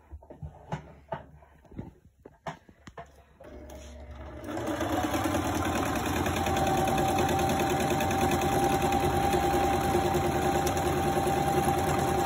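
After a few soft clicks and handling sounds, a sewing machine starts up and hums steadily, stitching fabric for a small glasses case at close range for the rest of the clip.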